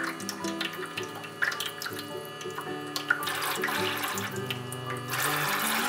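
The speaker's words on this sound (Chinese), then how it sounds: "再来洗红辣椒" Water runs steadily from a toy kitchen tap as red chili peppers are washed in a small play sink, a continuous splashing trickle with light plastic clicks and knocks.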